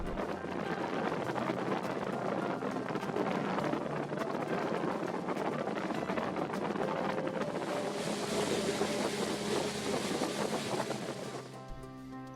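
A steady boat engine drones continuously beneath wind and water noise on a river in Sumidero Canyon, Chiapas, Mexico, loud and close throughout, with a brighter hiss rising near the end.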